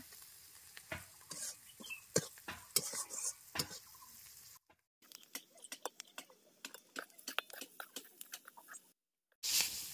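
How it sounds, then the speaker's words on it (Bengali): Onion and garlic frying in a pan for a spicy taro-leaf dish, with a steady close sizzle broken by sharp clinks and scrapes of stirring, two brief silent gaps, and no talking. "লাল লাল করে পেঁয়াজ রসুনটা ভাজা করে নেব"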